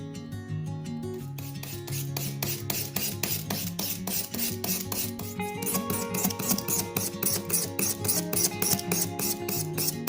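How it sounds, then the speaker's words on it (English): A razor blade scraper scrapes old finish off a hickory hatchet handle in quick, regular rasping strokes, close and fairly loud, with a dense steady rhythm and some music-like tonal hum underneath, no talk. "With just a razor blade scraper, I was able to take all that old finish off, smooth out the handle."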